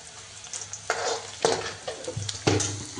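Chopped onions fry and sizzle in a pan, with a few loud scraping stirs in bursts over a steady crackling hiss, close by.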